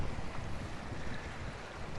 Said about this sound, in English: We've got a bit of a northerly blowing at the moment.